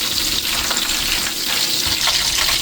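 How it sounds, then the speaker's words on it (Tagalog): Fish fillet frying in hot oil, a steady dense crackling sizzle with small pops throughout, close and fairly loud with no voices. "Saka natin iprito."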